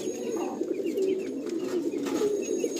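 Kalanka pigeons, of an old-line Madrasi breed, coo steadily in low throaty rolls with a few chirps over a constant background hum, close by.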